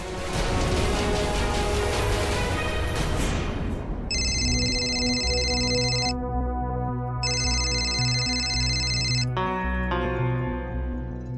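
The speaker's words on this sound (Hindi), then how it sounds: "मैं तुम्हें कब से फोन कर रही हूँ सोनाली, तुम मेरा फोन क्यों नहीं उठा रही हो?" A telephone rings loudly and close by in a melodic electronic ringtone, sounding in two long repeated bursts over a sustained musical background score with no speech.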